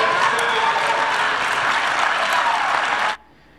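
Dense audience applause fills the room at a conservative political conference, a steady loud wash of many hands clapping that cuts off abruptly near the end.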